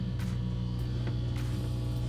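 A steady, droning low hum of an Oasis heater running in a rig, constant and unchanging, with a few faint clicks.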